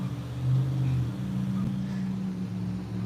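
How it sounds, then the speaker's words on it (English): A white truck's loud engine idles nearby, a steady low droning hum with a faint rise in the middle, heard alone without talk. "There's this white truck with this loud engine right over there"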